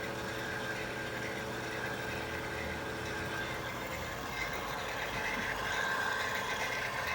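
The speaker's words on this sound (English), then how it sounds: "so this is part of the sound that's kind of whirring." An Aillio Bullet R-1 coffee roaster, examined for a possible fault, whirs with a steady mechanical hum and faint tonal drone, running alone and evenly throughout.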